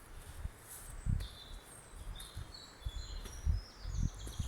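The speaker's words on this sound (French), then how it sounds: "Le chant des oiseaux." Birds sing in a forest, with scattered high chirps and trills over soft, close rustling and occasional footstep thumps.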